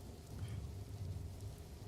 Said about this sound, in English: I might turn down the rain